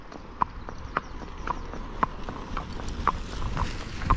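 A Rocky Mountain horse walks on a hard surface, its hooves clip-clopping in a steady, evenly spaced rhythm, close and clear over low background noise.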